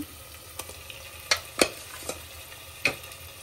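Marinated chicken frying in a pan gives a soft, low sizzle, broken by several sharp utensil scrapes and clinks at irregular intervals, heard close up with no talking.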